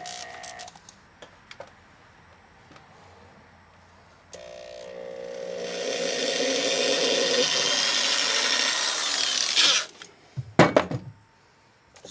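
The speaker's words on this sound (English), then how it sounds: "I'm going to use like a 16th inch drill bit or something like that and drill a hole just so I can get that screw started" A small 1/16 inch drill bit bores a pilot hole for a screw, a steady grinding whir lasting about five seconds, close and fairly loud, followed by a few sharp clicks and handling knocks.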